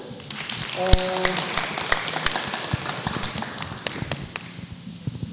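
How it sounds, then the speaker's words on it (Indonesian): Audience applause at a student ministry consultation session, with scattered, uneven claps and taps building into a moderate patter, and a voice speaking over the start. "Mari tepuk tangan"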